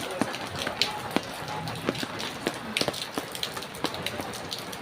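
Heavy rain pours steadily in a barangay neighbourhood, a dense hiss broken by sharp drip and splash hits on nearby surfaces, with faint voices in the background.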